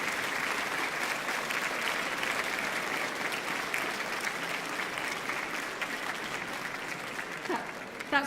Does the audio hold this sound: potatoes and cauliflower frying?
no